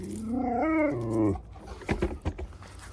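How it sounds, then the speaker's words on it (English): A dog whining outdoors near a garden bed being dug, a drawn-out rising and falling whine followed by a few short yips and huffs, close and clear. "Crazy dog."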